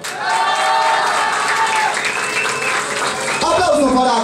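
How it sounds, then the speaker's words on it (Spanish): A studio audience on a television game show applauds contestant Mayra Buitón, loud continuous clapping with a voice or music carrying over it and a brief dip near the end. "aplauso para Mayra Buitón"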